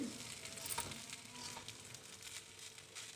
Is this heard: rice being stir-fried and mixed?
yes